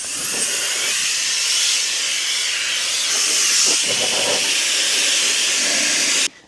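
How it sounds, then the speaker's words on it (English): A small handheld air blower blasts grime off an Audi S3 8V wheel arch area, a loud continuous hiss that swells slightly midway and cuts off abruptly at the end. "I'm gonna get my quick little blower to blow it all away"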